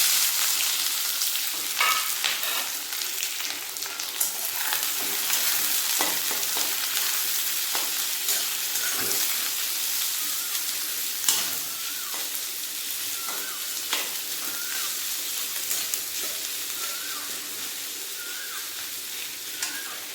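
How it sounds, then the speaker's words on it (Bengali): Chopped onion and green chillies fry in hot oil with whole cumin, dried chillies and bay leaves, a loud continuous crackling sizzle with occasional stirring scrapes, close up, with no voices. "এর মধ্যে দিয়ে দেবো কুচনো পেঁয়াজ আর কাঁচা লঙ্কা"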